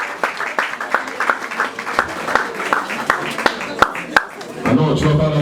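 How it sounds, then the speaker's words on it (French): Wedding guests in a hall clap in scattered, irregular bursts over a murmuring room, individual sharp claps standing out before the crowd noise thickens near the end. "Donnez un applaudissement"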